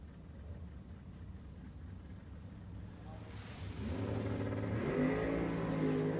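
A drag racing car at the US Street Nationals in Bradenton rolls toward pre-stage, its engine a low idle that swells into louder revving near the end, heard under a commentator's voice.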